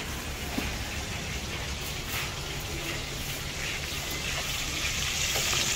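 Steady, continuous sizzling of food frying in hot oil, with occasional crackles and pops, fairly close and even throughout.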